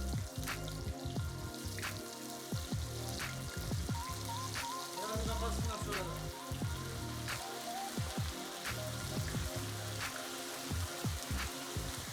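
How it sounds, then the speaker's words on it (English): Thinly sliced beef liver crackles and spits in very hot, smoking oil, a dense, steady sizzle with rapid popping bursts throughout and no one speaking. "Now drop the livers into the heated oil."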